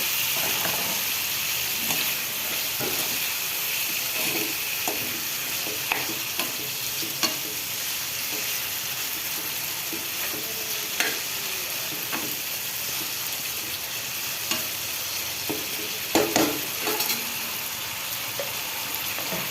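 Prawns sautéing in a thick masala paste in a pan, a steady close sizzle with frequent scraping stirs and light clatter throughout, no voices.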